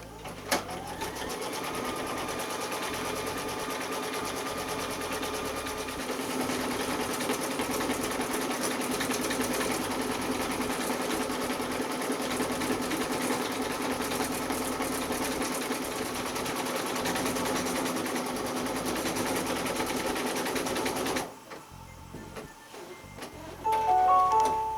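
An embroidery machine stitches quilting and positioning stitches on an in-the-hoop curling iron case, a fast, steady mechanical whir and tapping that runs for about twenty seconds before stopping abruptly, followed by a few faint clicks.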